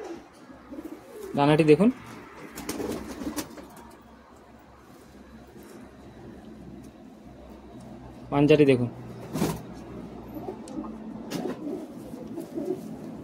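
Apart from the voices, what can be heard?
high flying Madrasi pigeons cooing in a loft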